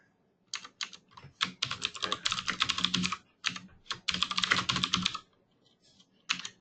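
Keys on a computer keyboard clatter during data entry, in dense bursts of rapid clicking broken by short pauses, close and clear, with one brief spoken word.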